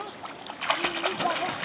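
Splashing as someone jumps into water at a nautical club on Réunion Island: a burst of bright splattering and sloshing, close and moderately loud, over outdoor ambience, with voices talking around it.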